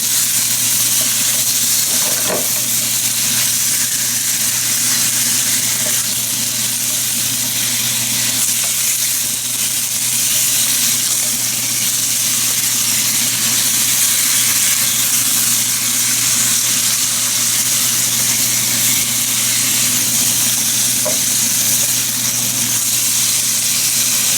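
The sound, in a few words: thin sliced pork frying in a pan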